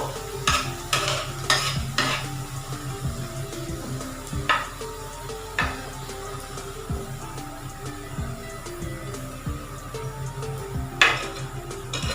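Onions frying until golden brown in a pan for an egg korma, with a steady low sizzle and repeated stirring scrapes and clinks of a utensil against the pan throughout, no voices.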